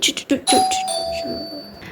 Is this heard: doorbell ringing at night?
yes